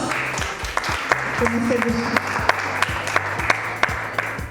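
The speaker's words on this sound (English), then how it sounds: "Let's give a big round of applause" A round of applause at a business festival in a Dubai hotel, with scattered sharp claps over a crowded hall, while someone speaks briefly over the clapping.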